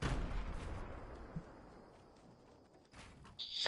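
Grenade blast in a video game, a loud booming burst right at the start that decays into a long fading rumble, with faint clanks and a brief hiss toward the end.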